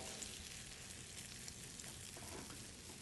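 A potato frittata fries in a hot pan with a steady, dense sizzle and crackle, close and fairly quiet, with no talking.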